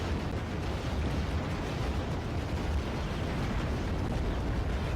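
Buildings explode in the real-time strategy game Act of Aggression, giving a dense continuous low rumble of blasts and debris that stays loud and even for the whole stretch, with no talk.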